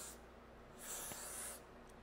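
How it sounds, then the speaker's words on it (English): A quick spray of liquid misted onto a forehead before putting on a wig, a soft hiss lasting under a second, faint and close with no talking. "I'm going to spray my forehead"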